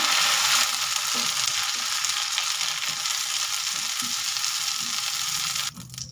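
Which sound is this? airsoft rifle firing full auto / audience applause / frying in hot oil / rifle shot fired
frying in hot oil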